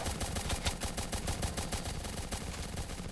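Rapid, dense gunfire from a Roblox tower defense game, a continuous rattling burst of repeated shots at steady volume with no talk over it.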